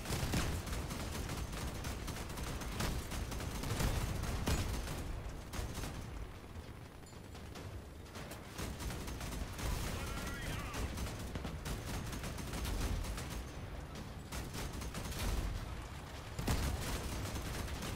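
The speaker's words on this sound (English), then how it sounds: "It's just like a stupid tank gun." Heavy gunfire and mechanical clatter from vehicle combat in the game Crossout, a tank gun among the weapons, loud and continuous with dense bursts throughout, with no talking heard.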